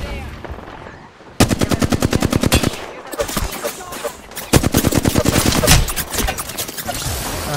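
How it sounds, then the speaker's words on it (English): Gunfire in the Apex Legends video game: loud, rapid automatic bursts rattle in quick repeated volleys with brief pauses between them, continuing through most of the clip. "I'm being fucking shot by the team on the bridge"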